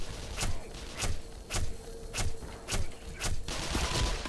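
Shotgun blasts in Black Mesa, fired about six times at an even pace roughly every half second, each a loud close boom followed by brief mechanical clatter.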